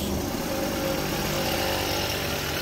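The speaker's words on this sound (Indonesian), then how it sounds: "mesinnya udah hidup masih halus" A car engine idles with a steady, even hum and low rumble, continuous throughout with no revving or voices.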